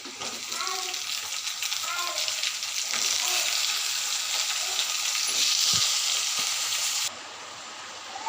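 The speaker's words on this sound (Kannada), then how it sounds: "ಇದೆಲ್ಲ ಚೆನ್ನಾಗಿ ಫ್ರೈ ಆದಮೇಲೆ ಟೊಮೊಟೊ ಹಾಕ್ಕೋಬೇಕು." Tomatoes sizzle and fry in a pan for a homemade egg tomato gojju, a steady bright hiss with occasional stirring clatter, close and continuous, with faint speech underneath.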